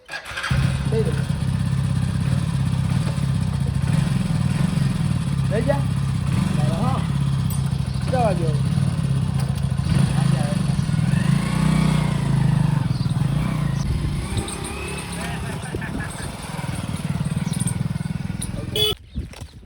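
A motorcycle engine runs steadily throughout, a low continuous rumble with people talking over it.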